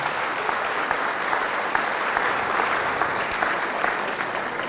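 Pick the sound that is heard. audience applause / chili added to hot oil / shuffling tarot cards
audience applause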